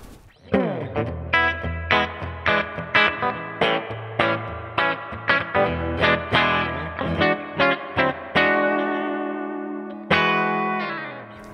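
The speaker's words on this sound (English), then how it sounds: "Beautiful sounding spring reverb pedal that I got going to the front of the amplifier" Electric guitar through a Strymon Flint spring reverb pedal into the amp, strums and picked notes with a lush, drippy spring reverb wash, ending on a long sustained chord that rings out.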